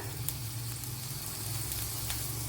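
Crushed ginger and garlic sizzle steadily in hot coconut oil in a pan, a close, continuous frying hiss with faint crackles throughout.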